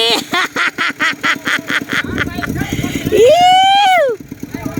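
Duck quacking in a rapid, regular run of short calls near a pond being pumped out for fish, with an engine running and people talking over it.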